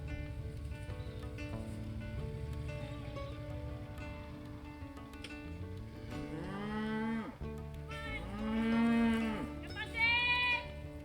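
Cattle mooing on a ranch pasture at feeding time, several long drawn-out bellowing calls rising near the end, loud and close, with steady low background noise and no talk.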